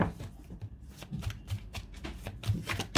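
Tarot cards riffled and handled close up for a card reading, a steady run of soft papery shuffles and flicks with no voice over them.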